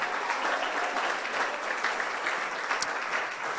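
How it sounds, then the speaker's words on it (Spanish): Steady applause from a church congregation during a Spanish-language service, dense and even for the whole stretch with no talk over it. "Démosle el aplauso al Señor en esta hora."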